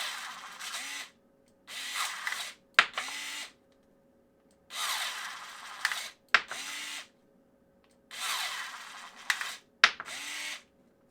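Parkside PAAS 4 A1 4V electric pruning shears cut through branches with repeated whirring motor bursts. Each burst lasts about a second and ends in a sharp snap. The cuts come in a steady rhythm, close and clear, with no talking.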